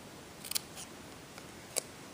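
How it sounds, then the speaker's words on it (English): Scissors snip the corner of a handmade Christmas card: two short, crisp cuts about a second apart, quiet and close in an otherwise still room. "I'm going to give a little snip"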